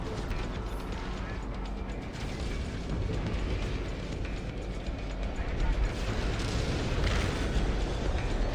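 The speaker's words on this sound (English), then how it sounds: "It's the upgraded rocket launchers that are doing it." Rocket launcher explosions from upgraded launchers in No Man's Sky, a dense continuous rumble of booms and bursts filling the whole stretch, loud and sustained with overlapping blasts.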